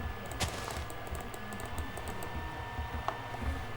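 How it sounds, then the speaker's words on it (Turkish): A computer mouse clicks during a Minecraft Skywars game, quick, faint, light clicks in an uneven run over a soft background hum, with no talking. "Tıklama sesim bilmem geliyor mudur?"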